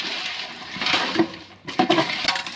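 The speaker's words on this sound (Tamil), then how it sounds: "நண்டை இப்போ வந்து நம்ம உப்பு மஞ்சத்தூள் நல்லா போட்டு அலசி எடுத்தாச்சு." Field crabs are rinsed by hand in water with salt and turmeric, giving close splashing and sloshing with brief clinks and knocks of shells against a vessel, in uneven bursts with no talk.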